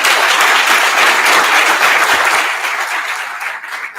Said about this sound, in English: give them a round of applause for reaching the end of round one